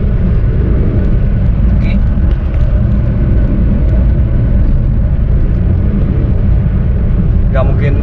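A 2016 Honda Brio Antiq's engine drones steadily inside the cabin at highway speed, with road rumble and wind noise throughout. Someone speaks briefly over it.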